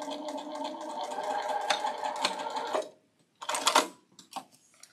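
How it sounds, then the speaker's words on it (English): A Juki TL-18 QVP sewing machine stitches a quilt in a steady, fast whirring run for about three seconds, then stops, followed by two brief restarts of stitching. "So I am using the Juki Teal 18 QVP."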